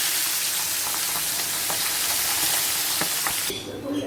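Pabda fish frying in hot oil in a home kitchen, a steady close sizzle with scattered pops and crackles that drops away near the end.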